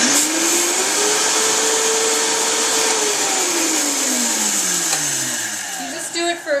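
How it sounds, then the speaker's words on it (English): A Vitamix blender whirs through a flaxseed smoothie, a loud steady motor roar whose pitch rises, holds, then sags as the load shifts, with a few clunks and a slowdown near the end. "Turn on your blender."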